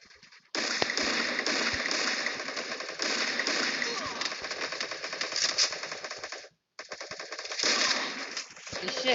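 Sustained rapid machine-gun fire from a video game, loud and continuous for most of the stretch with one brief gap, while a voice talks under the shooting.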